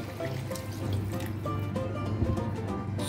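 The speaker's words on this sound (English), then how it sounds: "Now I'm gonna put half of this water in." Water poured into a pot of green beans for a summer dish, a steady close splashing and gurgling fill running throughout with no voices.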